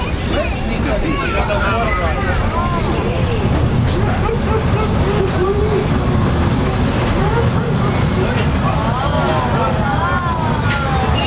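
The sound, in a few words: Walt Disney World Railroad train ride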